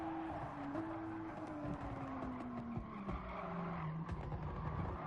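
Race car tires squealing under very late braking in GT Sport's GR Supra GT Cup, a long falling screech over the engine's tone, fairly faint with scattered clicks.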